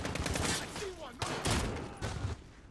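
Rapid gunfire bursts from the Call of Duty: Modern Warfare campaign crackle in three close, loud volleys with brief gaps, layered over game effects and voices.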